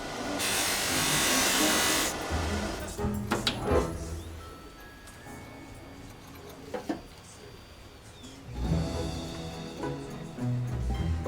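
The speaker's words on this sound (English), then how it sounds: "It's with a machine like this, it makes it so easy to polish brass." An electric polishing machine buffs brass in a repair workshop, with loud whirring bursts at the start and end and quieter rubbing, clicks and handling noises in between.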